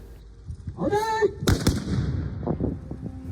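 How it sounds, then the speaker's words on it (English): Japanese matchlock guns fire a demonstration volley at Matsumoto Castle, a loud close boom with overlapping cracks and rumbling echoes, after a shouted command and amid crowd noise. "Now that the front rank has opened fire"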